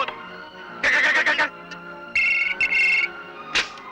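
A phone rings in bursts of bright electronic warble, two longer trills with a short chirp after, loud and close with no one speaking.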